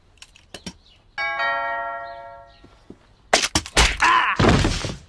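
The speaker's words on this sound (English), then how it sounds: "The doorbell's ringing." A doorbell chimes once with a sustained ringing tone amid quiet, then sharp thumps and clattering noises follow close by.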